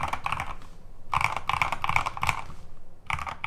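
Crisp typing on an Epomaker TH80 75% mechanical keyboard with pre-lubed keys and stabilizers, quick clusters of clacky keystrokes close up, pausing briefly between bursts.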